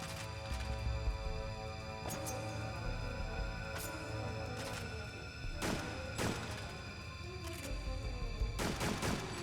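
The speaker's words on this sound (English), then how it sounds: "I'm gonna shoot my gun real quick just to see how loud it is." Gunfire in the video game Extermination: several sharp shots spaced irregularly over steady in-game background noise and rumble, some in quick pairs, with no talking.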